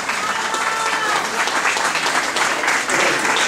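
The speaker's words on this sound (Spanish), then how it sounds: "Que se escuchen por ahí los aplausos." Dense crowd applause at an anniversary celebration, continuous loud clapping filling the whole stretch.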